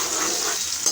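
Onions dropped into hot oil, giving a brief, loud, steady sizzling hiss with no talking.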